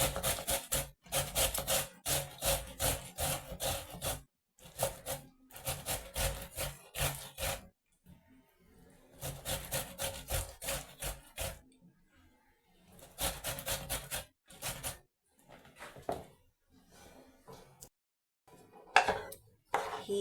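Tomatoes grated by hand in a home kitchen while cooking pilau: quick, close rasping strokes in rhythmic runs, broken by short silent pauses and a few scattered clatters.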